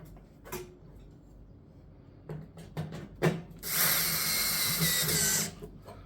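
A power tool drives out the screw holding an oven thermostat, with short clicks and handling knocks first, then a loud, steady drill whir of about two seconds before it stops; no one speaks.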